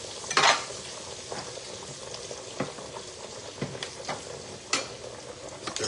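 A pan of pasta ingredients sizzles softly as food begins to brown, with a steady, quiet frying hiss broken by a few sharp clinks and scrapes of stirring, and no talk.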